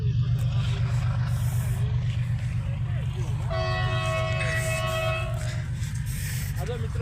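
A railway train rumbles past nearby in a constant low drone. Midway, a clear sustained horn blast sounds for about two seconds, then fades back into the rolling noise.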